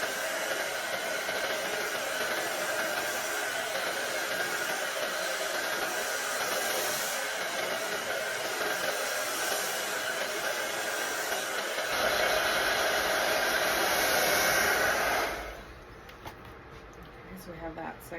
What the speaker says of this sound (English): you take your blow dryer